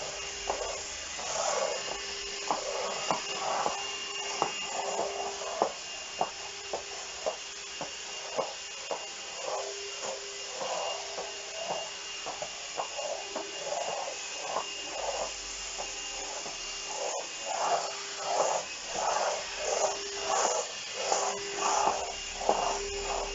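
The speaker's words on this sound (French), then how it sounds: "Pas évident pour Barbie de passer l'aspirateur" A vacuum cleaner runs in short, repeated pushes, its hissing whir swelling and dropping in a regular back-and-forth rhythm, moderately close with a constant tonal hum underneath.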